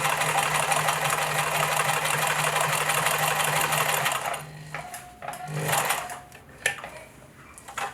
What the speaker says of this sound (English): So I'm just going to sew a straight line.